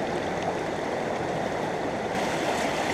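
Steady rush of water running through a gold sluice as a bucket of material is processed, a continuous close wash with a slight lift in brightness near the end.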